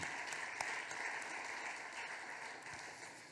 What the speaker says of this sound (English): you the cyclists deserve a big applause for this